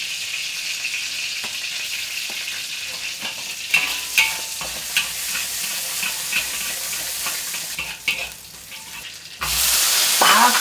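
Minced ginger and garlic sizzle in a little oil in a wok, with a soft, steady frying hiss and repeated scrapes and clinks of a spatula. A louder burst of sizzling erupts at the end.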